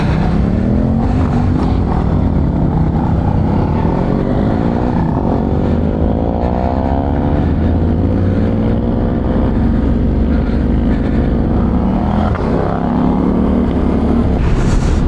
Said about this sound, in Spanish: Uy, viene un carro